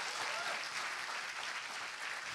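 Audience applause in a small talk-show style gathering: a dense, steady wash of clapping hands that fills the whole stretch evenly, fairly close, with no voices over it.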